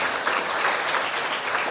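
An audience of hundreds of vocational school students applauds at a motivational event, a dense, steady clatter of many hands clapping together throughout.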